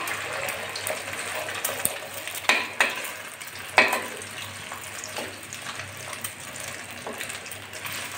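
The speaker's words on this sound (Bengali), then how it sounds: "ফেটানো ডিমটা তো গরম তেলে দিয়ে দিচ্ছি" Salted beaten egg fries in hot oil in a home kitchen, a steady crackling sizzle with a few sharp spatters and pops standing out above the hiss.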